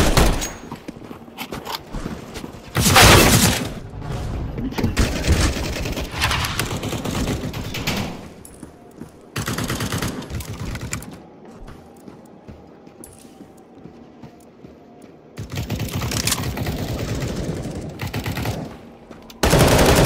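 Gunfire in the shooter game CS GO, loud rapid automatic bursts and single shots coming in several clusters, separated by quieter stretches.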